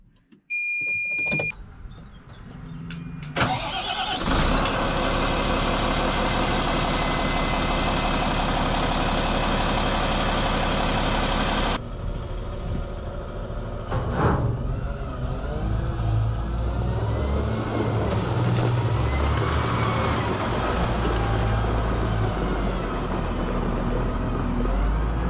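A Volvo L90H wheel loader's diesel engine cranks and catches, then settles into a loud, steady idle that runs close by, with a shift in the engine note partway through.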